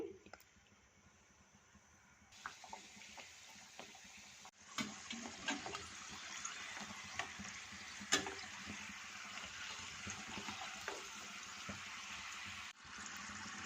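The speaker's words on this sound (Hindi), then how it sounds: "मीडियम लो हीट पे वॉन्टॉन्स को फ्राई कर लेंगे।" Wontons frying in oil over medium-low heat give a steady, close sizzle with scattered small crackles and pops. The sizzle swells after a quieter opening couple of seconds and runs on evenly to the end.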